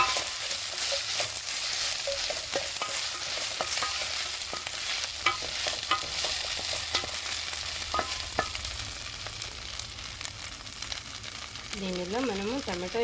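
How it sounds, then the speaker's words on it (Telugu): Ginger garlic paste frying in a pan for methi lotus seed biryani, with continuous sizzling and repeated scraping stir strokes, and a voice talking over it near the end. "మంచిగా వేగాలి అల్లం వెల్లుల్లి పేస్ట్."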